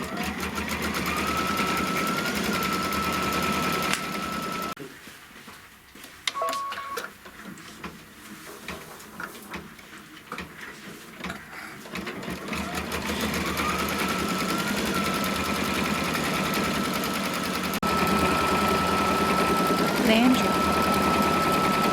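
Embroidery machine stitching an appliqué placement line for a purple flower, a loud, steady motor whir with rapid needle chatter. The stitching pauses briefly midway with lighter clicking, then resumes its even hum.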